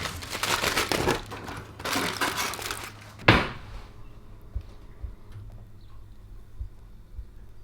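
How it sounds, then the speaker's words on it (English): Foil-wrapped smoked pork from a Weber grill is unwrapped, with close crinkling and rustling of foil in bursts, then a sharp crumple followed by faint ticks and light handling sounds. "Let's unwrap it then, see what it looks like."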